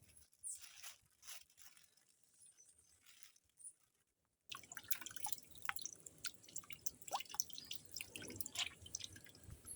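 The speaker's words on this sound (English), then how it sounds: "So first my uncle is gonna wash the seeds." Cacao seeds are washed by hand in water in Dominica, giving soft drips, squishes and splashes that go quiet briefly and then return as a busier stream of close, faint wet sounds.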